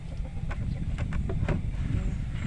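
Rhode Island Red chickens clucking in a few short, close bursts over a steady low rumble of background noise, with no talking.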